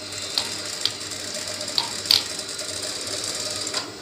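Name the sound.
sewing machine stitching trousers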